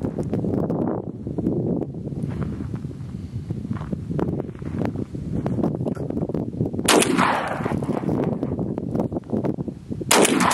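A shotgun loaded with double-aught buckshot fires outdoors, two sharp loud blasts well apart over steady wind rumble and faint shuffling.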